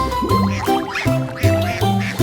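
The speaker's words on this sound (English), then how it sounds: "The ducks quack softly, a curious band." Ducks quack loudly and close by in a quick run of about half a dozen nasal calls, clear and alone with no talk.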